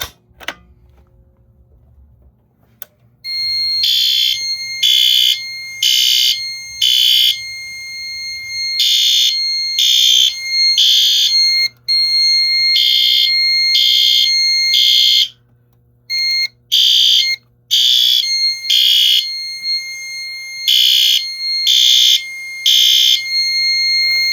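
After a click as a pull station is pulled, a loud electronic fire alarm on a Silent Knight IFP-50 system blares in repeated bursts of shrill tones, pausing briefly between groups and continuing to the end.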